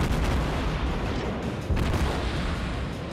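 Naval gunfire from a Baltimore cruiser in the World of Warships video game: dense, loud booming salvos fill the clip, with a sharp burst near the middle and a sustained low rumble throughout.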